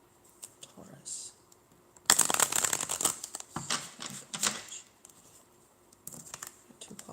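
A deck of tarot cards is cut and shuffled up close in one dense burst of riffling and slapping card noise, followed by a few softer handling taps.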